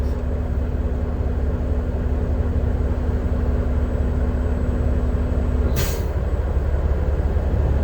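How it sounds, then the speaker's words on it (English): A multi-axle truck rolls past on a Michigan road, heard from inside a vehicle as a steady loud rumble with a humming tone, then a brief hissing burst near the end, with no talking. "Michigan has some trucks with like a lot of axles."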